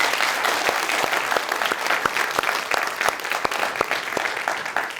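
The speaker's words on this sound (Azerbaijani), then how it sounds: "Bu alqışlarla bir özünüz üçün" Audience applause at the end of a live Azerbaijani comedy concert, with a dense, loud, steady crowd clapping and sharper individual claps standing out throughout.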